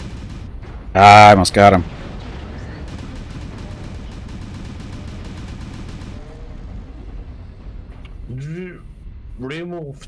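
An airstrike in MechWarrior Online lands with one loud, sharp explosive burst and a quick second blast, then a low rumble. Someone talks briefly afterward.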